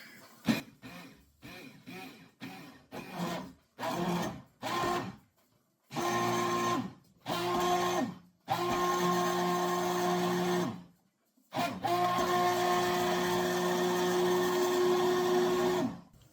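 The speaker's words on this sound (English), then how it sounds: "My stick blender, or immersion blender, is a Mueller, and it's adjustable." A Mueller adjustable immersion stick blender whirs through buttermilk in a series of short pulses, then longer runs, each with a steady motor whine and clean silences between bursts.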